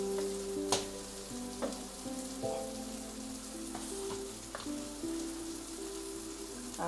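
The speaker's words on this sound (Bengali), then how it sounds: "মশলাটা কষাতে থাকবে।" Spice masala with cumin powder, salt and sugar frying in a pan for jackfruit kofta curry gives a continuous close sizzle, with occasional spoon clicks and scrapes and a faint tone humming underneath.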